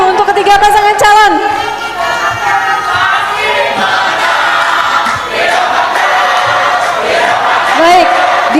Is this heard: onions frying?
no